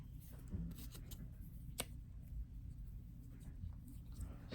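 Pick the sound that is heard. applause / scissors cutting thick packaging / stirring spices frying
scissors cutting thick packaging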